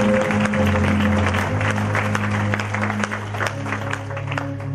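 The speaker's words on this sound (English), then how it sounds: "Come on, clap for Jesus." A church congregation claps together at an outdooring ceremony, a Ghanaian child-naming celebration. The clapping is dense and continuous, with a low hum of voices and music under it the whole time.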